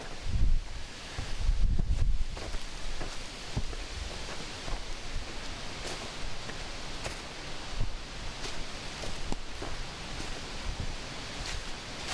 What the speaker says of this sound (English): It was real nice and relaxing with the leaves, sound of the leaves.